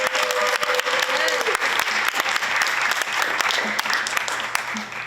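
A graduation audience gives a final round of applause, dense close clapping with sharp individual claps standing out, sustained throughout with a faint voice murmuring underneath.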